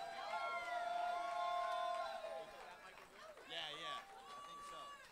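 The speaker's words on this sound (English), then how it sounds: "give him a huge round of applause" Concert crowd cheering and whooping for a guest musician at Ardmore Music Hall; loud sustained shouts and whistles swell from the audience, then a second burst follows as the noise settles.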